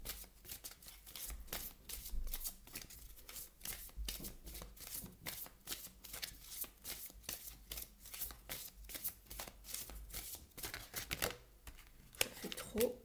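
Tarot cards are shuffled and drawn by hand in a rapid run of crisp, papery riffles and flicks, close and fairly quiet, with a few heavier snaps near the end.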